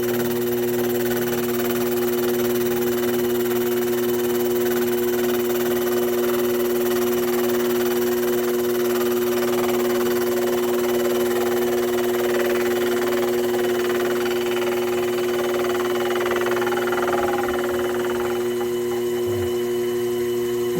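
A Sherline lathe hums at a steady pitch while cutting a locomotive tender wheel blank, a constant close motor whine with faint cutting noise and no voices.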